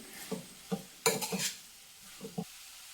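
Dried shrimp (jawla) and softened onion with spring onion greens are stirred in a pan, a quiet sequence of utensil clinks and scrapes over a faint sizzle, close and without talk.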